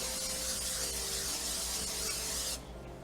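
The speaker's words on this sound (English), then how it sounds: "Right, spray our pan down." A continuous aerosol cooking spray hisses onto a pan for a couple of seconds, then cuts off abruptly, leaving a low background hum.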